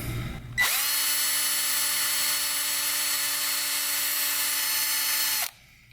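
A power drill spins up sharply, whines at a steady high pitch for about five seconds, then stops abruptly.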